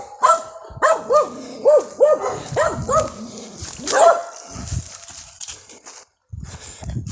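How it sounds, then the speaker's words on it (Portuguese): Several dogs bark in a rapid run of loud, close yelps and woofs, tapering into scattered barks and rustling before a brief silence. "Essa cachorrada é fogo."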